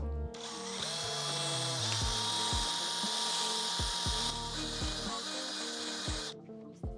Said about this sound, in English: we've got it attached to our drill